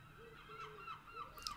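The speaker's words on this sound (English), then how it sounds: "I think we should shut the door because I think the birds are on one today." Geese honk outside in a few scattered calls, fairly faint and distant, over a low steady background with no talking.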